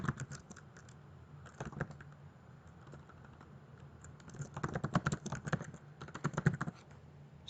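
Fingers type an email on a computer keyboard in quiet bursts of rapid clicking keystrokes, pausing briefly between runs, close and fairly soft.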